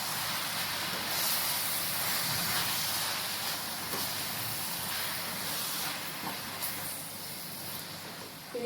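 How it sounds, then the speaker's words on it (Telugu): Amaranth leaves frying in a pan for a Telugu-style greens curry, giving a steady, soft hiss of sizzling oil that runs on evenly throughout, close by and without talk. "ఇది ఆకు బాగా ఫ్రై కావాలండి."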